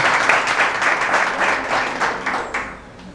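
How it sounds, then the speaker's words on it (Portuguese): A church congregation applauds the Lord during a Portuguese-language service, a dense burst of steady clapping that fades toward the end, close and alone without talk. "Vamos aplaudir ao Senhor?"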